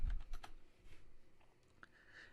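Quick bursts of keystrokes on a computer keyboard as a search query is typed, close and fairly faint, a few clustered taps followed by scattered single presses.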